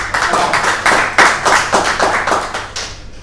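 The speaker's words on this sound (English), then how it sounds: "Can we give a big round of applause" A small audience at an evening business presentation claps, a close, loud, rhythmic round of hand claps from a few people that tapers off after about three seconds.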